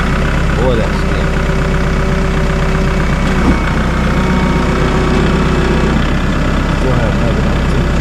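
A farm vehicle's engine idles steadily in freezing cold weather, a continuous loud low rumble running throughout while someone talks briefly over it.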